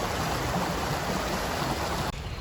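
Fast-running stream in spring woodland, flowing strongly with a dense, close rushing wash that stays loud and steady, briefly dipping near the end.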